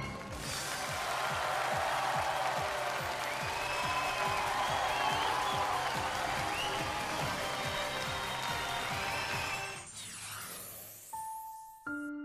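A studio audience at a television variety show applauds in a sustained, loud wash of clapping for about ten seconds, then it stops abruptly and a short chime follows.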